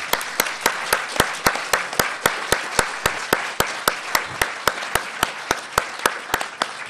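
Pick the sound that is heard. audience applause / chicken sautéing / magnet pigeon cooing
audience applause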